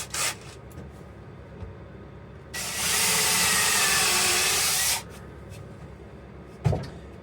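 A power drill bores a screw chuck hole into a wooden bowl blank during woodturning preparation, a loud steady whir lasting a few seconds with quieter handling knocks before and a sharp clunk after.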